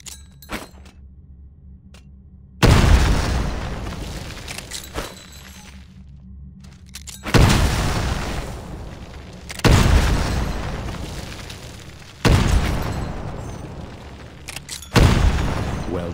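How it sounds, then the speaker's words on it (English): Four heavy grenade explosions go off in Titanfall pilot training, each a loud sudden boom with a long decaying rumble, spaced a few seconds apart over quiet ambience. "Throw a grenade into each of the windows."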